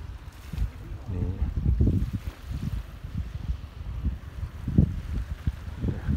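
Small sea waves wash ashore at high tide on a beach, soft irregular surges rising and falling close by, with brief speech over them.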